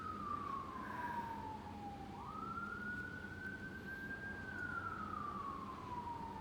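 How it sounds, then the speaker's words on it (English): Emergency vehicle siren sounds outdoors at a distance, a steady wailing tone that sweeps down, jumps up and slowly falls again, alone over low background rumble. "You hear the sirens?"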